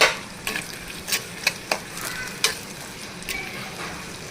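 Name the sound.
onions frying in a claypot for gongura mutton curry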